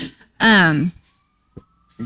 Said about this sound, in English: Sirens are right on time.